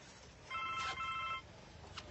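A telephone rings once in a short electronic burst, faint and alone in a quiet room.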